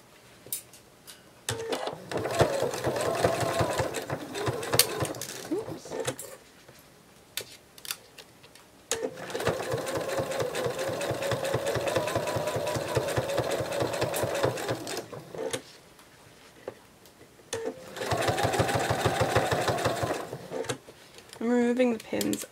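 A sewing machine hums and ticks through several long stitching runs on a penguin plush, broken by brief pauses and handling noises, with faint talking in places.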